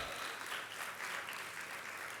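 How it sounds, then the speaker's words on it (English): Audience applause greets the chairman at a corporate tax seminar, a soft continuous patter of many hands clapping, faint and distant throughout. "can we have a huge round of applause for our chairman, CA Prakash Agarwal?"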